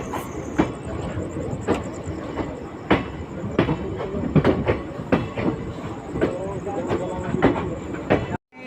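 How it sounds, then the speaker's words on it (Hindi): The Mussoorie Express passenger train pulls out of a station with a continuous rumbling roar, rhythmic wheel clatter and thumps, and a thin high steady whine. Faint voices mix into the loud, close noise until it cuts off abruptly. "हमारी यहाँ पर मसूरी एक्सप्रेस निकल चुकी है।"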